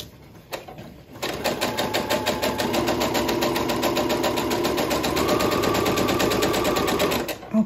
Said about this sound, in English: I'll just lift my foot up and start it right before my needle, and then I'll stitch those two together.